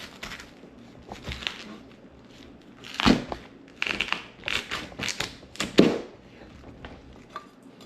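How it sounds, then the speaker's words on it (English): A knife slices through a whole cabbage, giving a few crunchy chops and cracks, louder bursts near the middle and end, close and dry with quiet pauses between. "I start off, I try to cut it in half."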